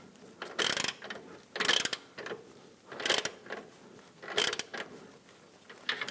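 Ratchet gently snugging a camber kit bolt on the front upper control arm of a 2006-2010 Hummer H3, four short bursts of quiet rapid clicking at a steady pace, close by.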